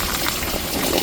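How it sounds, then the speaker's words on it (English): Rainwater is tipped out of a seedling tray in a rain-soaked garden, a brief, continuous splashing gush of water pouring onto the ground, close and steady throughout. "throw that water out"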